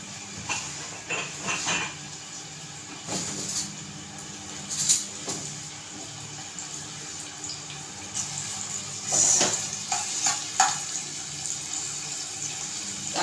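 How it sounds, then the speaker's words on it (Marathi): Onion sizzling and frying in hot oil until browned for a village-style spicy egg rassa, a steady crackling hiss with scattered sharper pops, close by and with no talking. "कांदा चांगला लाल होऊन द्यायचा आहे"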